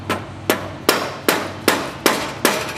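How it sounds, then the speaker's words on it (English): Seven sharp metallic hammer strikes in a steady rhythm, each ringing briefly, knocking loose a ring on the lower assembly of a Graco FinishPro 395 sprayer, close and loud with no talk. "We want to get this loose. Again, just a hammer."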